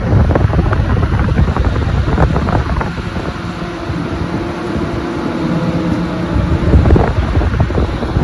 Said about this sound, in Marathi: अशा रीतीने धोपाव्यावरून बोट निघाली